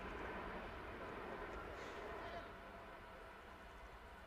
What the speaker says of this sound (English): There's another train comes through